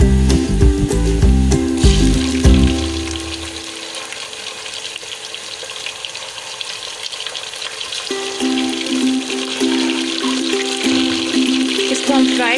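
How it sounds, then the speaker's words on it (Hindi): Chicken sizzles steadily in a pan with garlic and salt, a constant frying hiss that sits under music at the start and end. "चिकन को हम 2 से 3 मिनट तक फ्राई करेंगे।"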